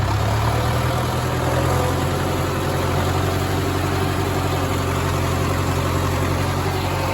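A hay equipment engine runs in second gear during the start of hay season in East Tennessee, a loud, steady, continuous mechanical drone with a deep rumble that holds throughout.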